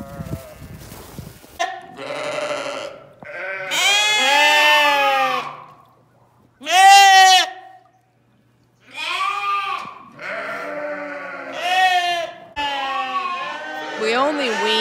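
Weaned dairy sheep and lambs on a farm bleat loudly and repeatedly in long wavering calls, several animals overlapping close by with brief quiet gaps between bursts.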